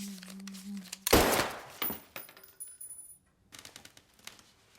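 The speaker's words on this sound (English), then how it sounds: "Jack accidentally pulled the trigger." A single gun fired by accident gives a sharp, loud burst that tails off into a ringing decay, with quieter rustling and small sounds before and after it.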